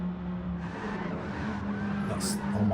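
Race cars skid and squeal as they spin out on a wet Nürburgring Nordschleife, engines droning steadily at mid distance beneath a commentator talking, with a sharp tyre screech near the end.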